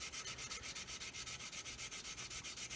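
A sanding stick rubs over the surface of a Roden 1/144 plastic C-141B Starlifter model in quick, even back-and-forth strokes, close and quiet, with a regular rhythm of about six strokes per second.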